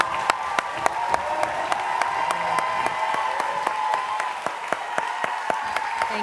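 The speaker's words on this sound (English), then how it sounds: "I think she deserves an even bigger round of applause" Audience applause at a mayoral education announcement, steady sustained clapping from a gathered crowd with a constant murmur beneath it, moderately loud throughout.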